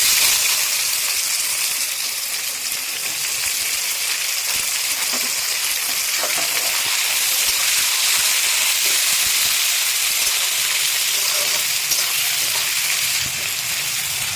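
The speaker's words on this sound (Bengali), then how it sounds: "পেঁয়াজটা এখন তো ভাজা চলছে।" Chopped onions fry in a hot pan while muri ghonto is cooked with fish head and gobindobhog rice. A loud, steady sizzle and hiss runs close and unbroken throughout, with no talking.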